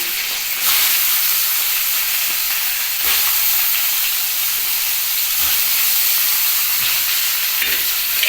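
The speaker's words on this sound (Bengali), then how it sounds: "এবার এগুলো মশলাটাকে কষিয়ে নিলাম" Spices with grated ginger frying in a pan for a potato and lentil-cake curry, a steady close sizzle and hiss that runs throughout with faint stirring scrapes and no talk.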